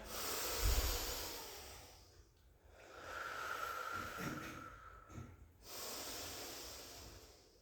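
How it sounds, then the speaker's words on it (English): During a Pilates calf stretch, one slow, deep in-breath and a gentle exhale sound close and soft, with no talking over them. "Take a lovely in breath"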